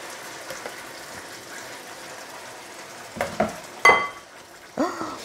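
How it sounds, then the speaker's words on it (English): Pepper mix sizzles in a hot pot for jollof rice as a soft, continuous frying hiss, with a few louder metallic clanks and scrapes of a utensil toward the end. "So we're going to put in our pepper mix right now."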